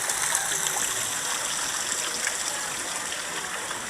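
Water rushes and splashes without pause on the American Plunge log flume at Silver Dollar City in Branson, a loud, steady wash with no talking.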